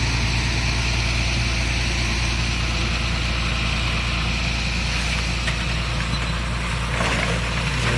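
A garbage truck's heavy diesel engine idles steadily at an outdoor garbage dump site, loud and close, with a brief clank or rattle near the end and no talk.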